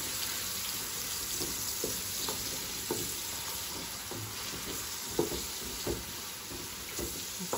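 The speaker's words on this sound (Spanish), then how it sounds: "Voy a poner primero la cebolla, que se dore un poquito la cebolla." Chopped onion fries in hot oil for pupusa filling, a steady close sizzle with occasional soft stirring scrapes and clicks of a utensil in the pan.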